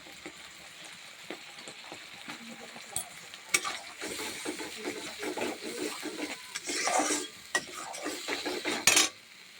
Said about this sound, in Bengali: লবণটা দিয়ে দিলাম দিয়ে কষাবো মশলাটা এখন